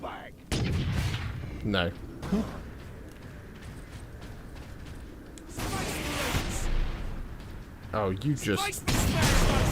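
Rockets fire in Warhammer 40,000: Space Marine with heavy booming blasts and rumbling bursts, loud and near. A player talks briefly between the explosions.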